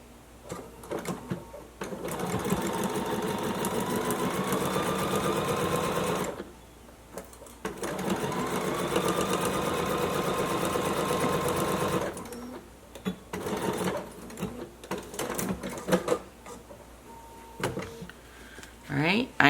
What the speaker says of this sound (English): I'm gonna stick a pin in there, all right? And I'm gonna sew that one.